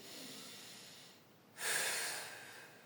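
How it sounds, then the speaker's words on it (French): A single slow chest breath during a breathing exercise: faint airflow fades into a brief pause, then a sudden, louder inhale rushes in close to the microphone. "je veux mobiliser que le thorax, j'inspire"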